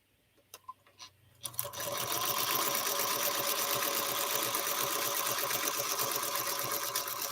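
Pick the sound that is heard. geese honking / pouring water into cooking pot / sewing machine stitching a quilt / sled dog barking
sewing machine stitching a quilt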